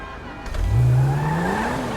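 A car engine starting in the video game GTA 5, cranking then catching and rising into a rev, loud and close with no talk over it.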